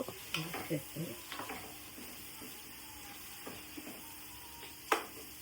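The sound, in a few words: ginger garlic paste frying and being stirred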